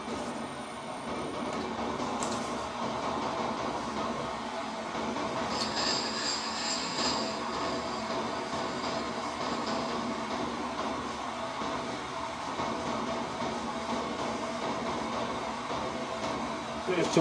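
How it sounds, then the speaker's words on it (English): A diesel heater runs steadily in a workshop where an electric motor rotor is being built up with weld, giving a continuous broad mechanical hum and whir that stays even at moderate level throughout, with no voices. "That noise you can hear in the background is my diesel heater running."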